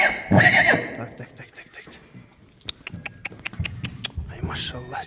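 A foal gives a loud, close whinny at the start and a fainter neigh near the end, with hoof clops and a man's speech in between.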